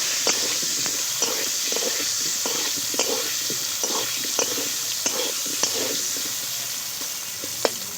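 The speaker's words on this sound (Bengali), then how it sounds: "ভালো করে আলুগুলো লাল লাল করে ভেজে নেব" Potato pieces seasoned with salt and turmeric fry in a pan with a continuous soft sizzle and hiss, punctuated by regular light clicks and scrapes of a stirring spatula.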